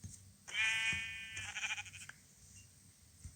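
A sheep in Minecraft gives one clear, loud bleat with a wavering tone, followed by a shorter second bleat, standing alone against a quiet game backdrop.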